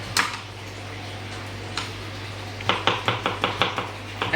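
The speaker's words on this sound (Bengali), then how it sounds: "এখন পেঁয়াজ রসুন কুচানো হচ্ছে" Onion and garlic chopped on a board, a few scattered knife strikes followed by a quick, even run of sharp close chops over a low steady hum, no talk.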